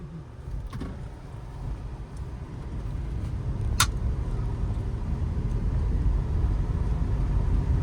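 A car moving at low speed and turning smoothly, heard from inside as a soft, steady low engine and road hum that slowly grows, with a faint click partway through and no speech.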